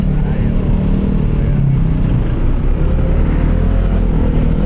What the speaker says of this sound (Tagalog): Ito medyo nagkaka-traffic pa, no?